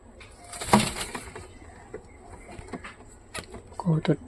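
Pigeons kept in a cage coo and rustle close by, giving soft throaty calls with a brief flutter, while a person speaks over them.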